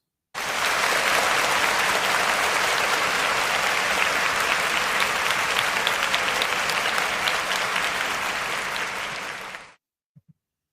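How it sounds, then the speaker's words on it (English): A crowd applauds loudly and continuously for nearly ten seconds, a thick wash of many hands clapping that cuts off abruptly, followed by a couple of faint sounds. "let's give her a round of applause"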